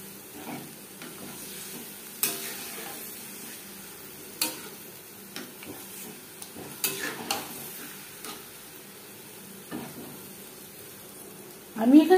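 Boiled olives and chillies cook in a pan, a faint sizzle beneath sporadic clicks and scrapes of a spoon stirring, with a louder rustle of stirring at the end.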